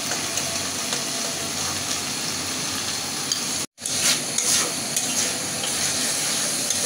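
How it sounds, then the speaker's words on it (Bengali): Hilsa fish sautéing in spiced oil in a pan, a dense, continuous close sizzle that cuts out for a split second midway and then resumes, with no voices. "মাছটাও কিন্তু সুন্দর করে আমি কষিয়ে নিছি"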